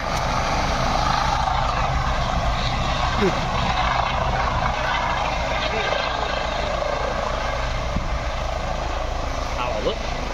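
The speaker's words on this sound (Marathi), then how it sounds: "तरी पण हेलिकॉप्टर निघाला म्हणजे" A loud, steady helicopter rotor and engine drone as it takes off at the Shivrajyabhishek celebration at Raigad, with voices talking faintly underneath.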